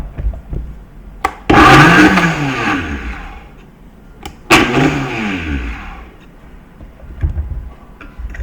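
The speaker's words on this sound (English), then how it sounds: "I'm going to mush them up in the Vitamix." A Vitamix blender mushing bananas runs in two loud bursts, each starting with a sharp roar whose pitch sweeps downward before fading, separated by quieter pauses with small clicks.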